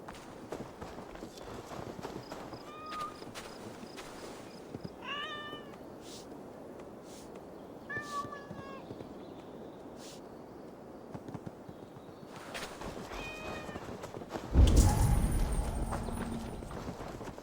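Cats meow several times in a game set in Norse times, short rising calls spread over the stretch, mixed with footsteps and hoofbeats, ending in a louder burst of noise.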